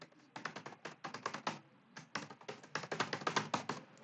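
Rapid keystrokes on a computer keyboard as a login ID and password are entered, coming in quick clattering bursts with a short pause in the middle, close and clear with no talking.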